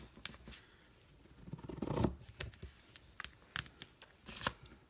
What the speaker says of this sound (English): I'm gonna cut this one too.